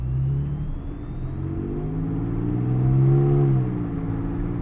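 A 2009 Porsche 911 Carrera S with PDK gearbox in automatic mode pulls away, engine tone rising steadily and dipping at a smooth shift, then climbing again, heard from inside the cabin.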